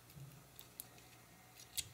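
Pair of industrial-looking scissors with a plastic protective cover handled during a Beebeecraft craft-supply unboxing, giving a few faint, brief metallic clicks and snips against quiet room tone.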